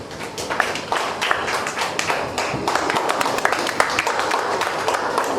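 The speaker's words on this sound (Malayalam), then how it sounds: "എല്ലാവരും കൈയടിച്ച്, നന്നായിട്ട് കൈയടിക്കുക" Audience at a school's 110th anniversary celebration applauding with a steady, dense patter of many hands clapping, sustained throughout at moderate loudness.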